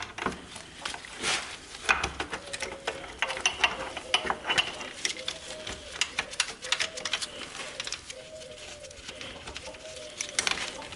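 A ratchet tightens a bolt on the rear suspension bearing carrier of a Honda Sportrax 300EX quad, giving repeated close clicking strokes in short irregular bursts throughout.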